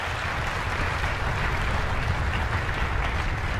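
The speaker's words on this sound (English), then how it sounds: "round of applause for the parents" An audience at a school orchestra concert gives a round of applause, a dense, steady wash of clapping from many hands that holds at an even level from start to finish.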